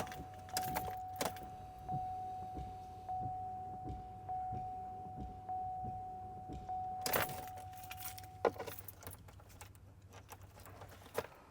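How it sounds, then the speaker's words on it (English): Car keys jangle in a rhythmic, moderately close series of metallic clinks, with a sharper burst near the middle, inside a parked car while rain falls and a steady hum runs underneath. "Let me get my keys on here."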